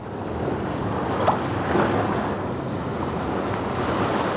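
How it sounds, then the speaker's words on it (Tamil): Sea waves wash near a beach beside a coastal church, a steady broad rush of surf mixed with wind noise, continuous and moderately loud with no voices. "இது கடற்கரைக்கு மிக அருகில் உள்ளதால் கடல் அலைகளின் ஓசையுடன் மிகவும் அமைதியான ஆன்மீகச் சூழல் இங்கே நிலவுகிறது"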